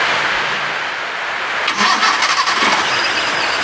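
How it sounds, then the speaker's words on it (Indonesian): A carbureted 1.0-litre Suzuki Carry pickup engine cranks and catches without throttle, settling into a steady idle after a brief starter whir partway through; close and fairly loud, no talking. "Terus sekarang coba kita nyalakan mesinnya."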